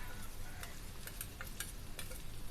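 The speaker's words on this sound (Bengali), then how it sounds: "এবার চালের সাথে এই আদা রসুন বাটাটাও ভেজে নেব" Rice fries over very low heat with garlic and ginger paste, giving a faint continuous sizzle with soft, scattered stirring scrapes.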